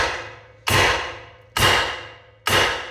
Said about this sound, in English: I'm going to try hitting on the sides of this control arm again